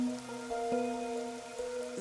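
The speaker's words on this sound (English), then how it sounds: "The rain, it never stops." Steady rain pours in a video game, a soft continuous patter over a low musical drone, with occasional louder drops, no voices.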